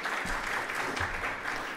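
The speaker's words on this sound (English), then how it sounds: "A warm round of applause for him as well." An audience at an annual business review event claps briefly, a dense, even patter of hands that holds steady for a couple of seconds.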